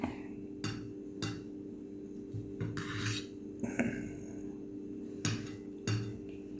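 A knife cuts through a spongy oats cake, making a series of soft, quiet rasping strokes spaced a second or so apart, close up and without talk.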